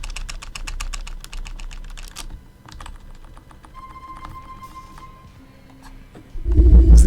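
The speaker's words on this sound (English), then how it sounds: "Is the keyboard really that loud?" Computer keyboard typing during a GTA IV speedrun session, rapid clustered keystrokes for about two seconds then sparser clicks, fairly close and moderately loud, ending in a louder burst of noise.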